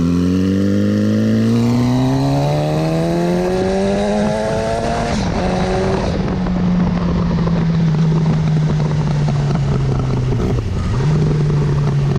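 A modified Suzuki GSX1100ET Turbo motorcycle revs up, its loud engine note climbing steadily in pitch before settling into a sustained roar with brief dips, close and continuous throughout.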